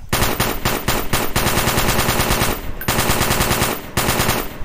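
Rapid automatic AK rifle fire in the Garry's Mod video game, loud, dense bursts of shots with brief pauses between volleys.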